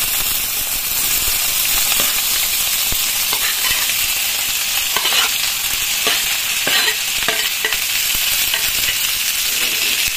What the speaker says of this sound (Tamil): இப்ப பொரிஞ்ச பிறகு நம்ம அரிஞ்சு வச்சிருக்க கோவக்காவை வந்து ஆட் பண்ணணும்.